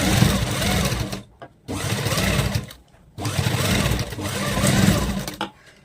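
A sewing machine stitching plazo pant fabric runs in three bursts of steady mechanical whirring, each a second or more long, separated by brief pauses, fairly close and moderately loud.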